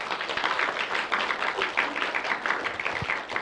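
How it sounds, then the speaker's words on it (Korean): A church congregation at a Friday evening worship service applauds, many hands clapping in a busy, sustained patter that holds steady for several seconds. "박수 한번 주세요."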